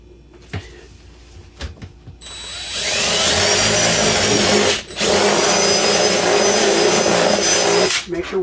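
A power drill drives a screw into an IKEA EKET wall cabinet bracket, whirring loudly and steadily for about six seconds with a brief pause midway, after a few quiet handling clicks.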